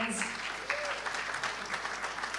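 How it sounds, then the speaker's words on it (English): Guests at an India–Bangladesh friendship celebration applaud, a brief burst of many hands clapping in a hall, with a voice briefly heard over it. "A big round of applause, friends."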